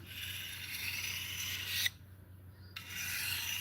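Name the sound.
2x72 belt grinder with 80 grit belt running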